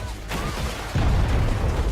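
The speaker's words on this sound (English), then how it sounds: "Even if the rocket itself doesn't hit you, the explosion makes a large damage radius." A rocket explosion in the Just Cause 4 video game: a short whoosh, then a deep, heavy boom that rumbles on to the end.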